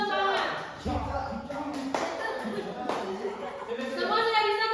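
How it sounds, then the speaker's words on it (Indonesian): A classroom of students performs a rhythmic spirit clap, bursts of group clapping in a patterned beat, close and fairly loud, with the class talking and chanting along. "Kita akan tepuk semangat."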